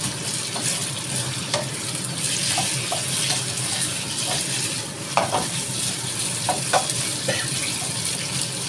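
Sliced onions hitting half-cooked meat in a hot pan, sizzling and frying steadily with clinks of stirring and scraping throughout, close and continuous.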